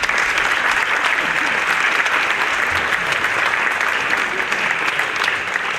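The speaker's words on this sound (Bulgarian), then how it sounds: "Благодарим ви, приятели, отново с аплодисменти." Steady, loud audience applause at a Bulgarian radio program celebration evening, a thick continuous roar of many hands clapping without pause.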